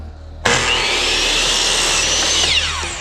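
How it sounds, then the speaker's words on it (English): A miter saw makes a straight cut through crown molding, bursting in with a loud whine and a steady grinding rasp for about two seconds before winding down. "We're just gonna make a straight cut. Make sure your miter is on 0"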